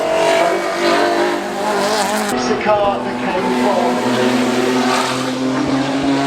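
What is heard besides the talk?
Mercedes 190 and BMW M3 racing up Goodwood hillclimb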